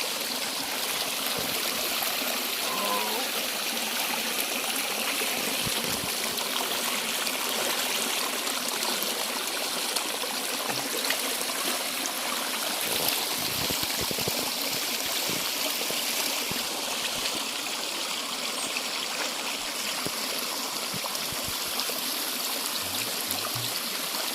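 A stream by an old village flows steadily for the whole stretch, a continuous close rush and trickle of water with faint gurgles and nothing else over it.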